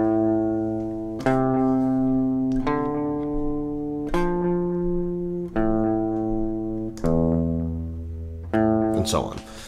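Single bass notes of House of the Rising Sun picked on guitar, about seven deep ringing notes struck at an even, slow pace, each left to sustain, played alone and close.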